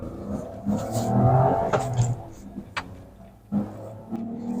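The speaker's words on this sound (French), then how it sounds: "Petite accélération" A Fiat 500 Sport car engine revs up in a short acceleration, heard from inside the cabin with a rising drone and some knocks and clicks.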